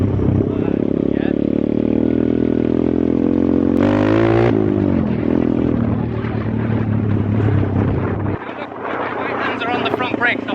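A 125cc Welsh pit bike engine revving and running up through the gears, loud and close, with the pitch shifting at each gear change and a drop in engine tone near the end.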